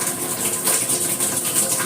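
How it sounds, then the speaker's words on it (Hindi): Water runs steadily down a kitchen sink drain after a blocked drain is fixed, a continuous close-up gushing and trickling with no voices. "और देखो यहाँ पर पानी जा रहा है और यहाँ पर आराम से।"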